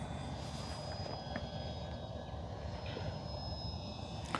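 An E-flite Ultra Stick 1.1m RC airplane rolls for takeoff with a steady, fairly loud motor whine over constant broadband wind-like roar. No one speaks throughout.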